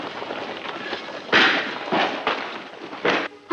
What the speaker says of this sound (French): Mais non, c'est le bruit des fusées.